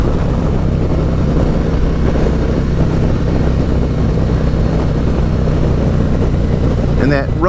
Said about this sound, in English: And that rumble of the Stage 2 exhaust